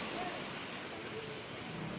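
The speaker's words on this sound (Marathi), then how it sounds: "त्या नाही तर दिसते बघा किती मोठा पाऊस." Heavy night rain in Kerala pours down as a steady, even hiss, unbroken and fairly faint, with no clear voices.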